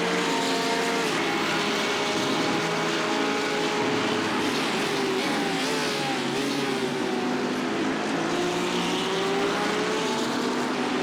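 A front-engine race car running flat out down the straight at the Catalunya circuit, a loud, continuous engine drone that holds close and steady, its pitch wavering slightly as it pulls through the gears.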